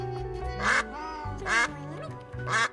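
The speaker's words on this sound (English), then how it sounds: "Wow, that's a lot of ducks." Cartoonish ducks quack in Duck Detective: The Secret Salami, three loud nasal quacks spaced about a second apart over a light plucky musical backing.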